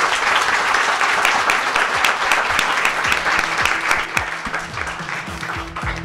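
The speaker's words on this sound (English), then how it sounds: "Let's have a round of applause for our panel" Audience at an AI and ethics panel event applauding the panelists, a loud, dense round of clapping sustained for several seconds with crisp individual claps near the end.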